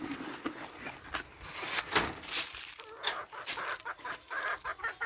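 Several chickens cluck and chatter close by in short, irregular bursts, with scratchy rustling in between.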